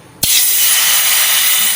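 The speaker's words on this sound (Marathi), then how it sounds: "पाणी घालून घेऊयात पातेल्यात।" Water poured into a cooking pot for an Ayurvedic kadha with cinnamon, cloves and cardamom, a loud steady hissing rush starting abruptly after a brief quiet moment and continuing without a break.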